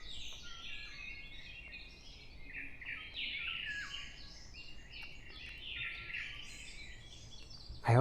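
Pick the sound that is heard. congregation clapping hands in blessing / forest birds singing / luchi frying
forest birds singing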